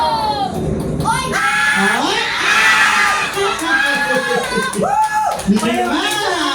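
Near and loud, a family party crowd of children and adults shouts and cheers together in a New Year shouting contest, a sustained roar with whoops and a few voices standing out.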